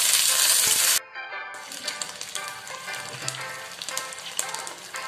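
Water poured into a hot frying pan of aromatic tempeh seasoning with bird's-eye chilies, a loud burst of hissing sizzle that cuts off and gives way to softer bubbling and crackling simmer.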